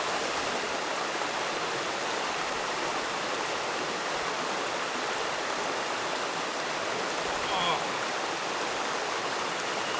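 Steady broadband rush of a stream flowing at a swimming hole in Panama, a constant close wash of water with no pauses for the full stretch.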